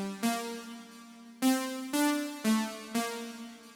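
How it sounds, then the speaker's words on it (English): A simple synth brass patch from a Korg Triton plays five sustained tones with clean attacks in a steady rhythm, each a bright harmonic-rich note, close and alone with no voices. "Next up was just a simple synth brass sound using, again, Triton."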